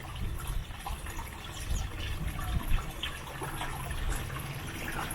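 Water from a small spring at Eureka Springs trickles steadily, a continuous soft splashing and gurgling with faint outdoor background.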